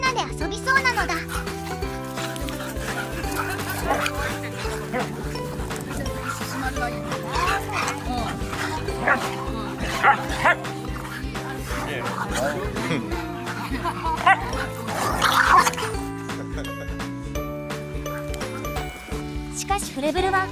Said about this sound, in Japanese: しかしフレブルは大型犬とでも上手に遊ぶね。